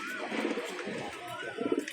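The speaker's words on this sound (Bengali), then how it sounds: "পায়রা দুটো ধরে দেখিয়ে দিচ্ছি" A male kalishira pigeon coos softly at close range in a low, rolling burble over about two seconds. A faint background murmur runs beneath it.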